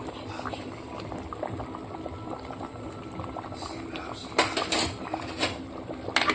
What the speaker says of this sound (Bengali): এই যে পোড়নে সব কিছু দিয়ে দিয়েছি এবার আমি ঢেলে দেব খিচুড়িতে